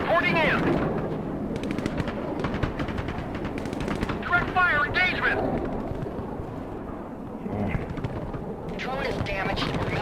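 Gunfire and artillery from the strategy game Broken Arrow, with repeated blasts and shots rumbling through a dense battle mix, under radio-style voice callouts and loud throughout.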